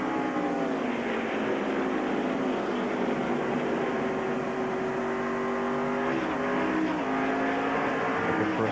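NASCAR Winston Cup stock cars racing at Phoenix International, a steady roar of many engines droning together with rising and falling pitch as cars pass, loud and continuous.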